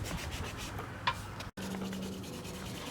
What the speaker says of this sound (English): And Joseph's just sanding shit.